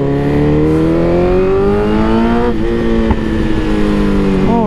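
A BMW S1000RR sport motorcycle accelerates hard in a tunnel, its loud close engine climbing steadily in pitch through the gears, with a brief dip at a shift before revving up again.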